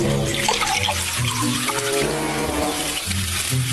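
Splashing water like pouring rain rushes steadily and loudly, layered over a tuneful music track with sustained tones throughout.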